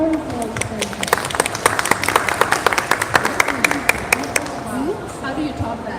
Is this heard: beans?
no